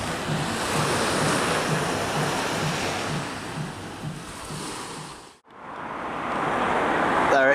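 Sea waves wash onto the shore at Great Yarmouth, a steady rushing surf with wind buffeting the microphone, briefly cut off before resuming.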